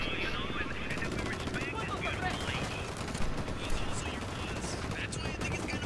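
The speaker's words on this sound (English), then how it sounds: "Getting gunfire." Video game gunfire in Ghost Recon Wildlands during an airfield assault, rapid bursts of automatic shots crackling steadily at moderate distance, with a thrumming mechanical drone beneath and players talking over it.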